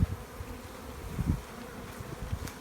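A steady, low insect hum of many honeybees buzzing together in a Saskatraz hive, continuous and fairly close, with no voices.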